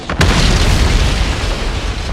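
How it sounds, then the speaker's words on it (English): Large explosion of a hydrocarbon and air mixture at a refinery, a sudden loud boom that swells into a sustained heavy rumble. "the hazardous mixture of air and hydrocarbons found an ignition source, and there was a large explosion"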